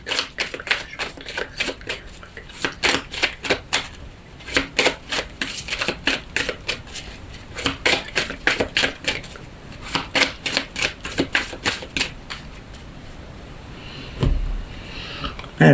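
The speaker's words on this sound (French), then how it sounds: "on va voir avec la coupe et avec 6 cartes ce que Mademoiselle Lenormand a à nous dire" Lenormand oracle cards being shuffled and cut by hand: a long run of crisp, rapid riffling clicks in quick bursts, close and fairly loud, trailing off into a soft dull thump near the end with no talking.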